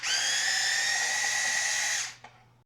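Power drill backing out screws from an old light mounting bracket, a single steady high-pitched whine lasting about two seconds before spinning down, followed by a brief click, close and loud.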